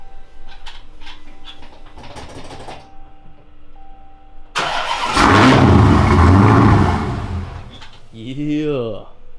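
A manual Dodge Challenger Hellcat cranks and fires with the clutch pressed, bursting into a loud, rumbling idle after a few seconds of quiet talk, then settling as a voice speaks over it.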